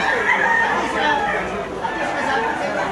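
A rooster crows among the poultry at a chicken market in Batangas, the call blending into busy voices and crowd chatter close by.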